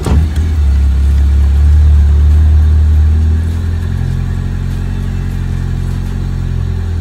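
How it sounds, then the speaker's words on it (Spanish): A Chevrolet Corsa fitted with a Ferrazzi direct intake kit cranks and fires, surging loud at first, then settling into a steady, lower idle close by. "Le vamos a dar arranque, a ver si no tira ninguna falla rara."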